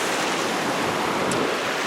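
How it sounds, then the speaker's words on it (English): A river flowing strongly at a water-collection spot next to a camp with a Hennessy hammock, heard as a dense, continuous rushing wash that stays loud and steady from start to end, with no voices. "I chose this spot to get some water, mainly because the water's flowing really good"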